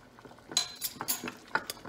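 A coffee bean massage bar mixture with essential oil is stirred in a pot on the heat, giving a few soft metallic clinks and scrapes of a utensil against the pot, close and quiet with no talking.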